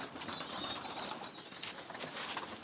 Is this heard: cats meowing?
no